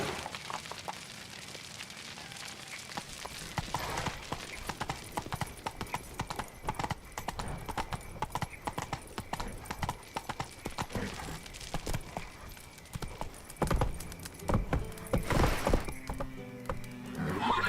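Horse hooves from The Witcher 3 video game, a brisk repeated clip-clop trotting close by, growing heavier and more irregular toward the end with a few sharper knocks and louder impacts.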